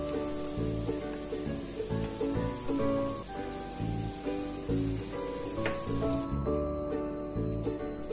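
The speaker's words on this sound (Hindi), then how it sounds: "शहद को अच्छे से मिक्स करना है।" A spoon stirs honey into a turmeric laddu mixture with chopped almonds and ghee in a pan off the heat, giving steady close scraping and soft sticky stirring strokes with faint clinks, continuous throughout.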